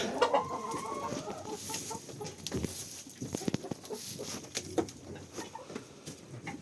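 Several chickens cluck and murmur close by, a busy overlapping chorus with scattered sharper squawks and some rustling.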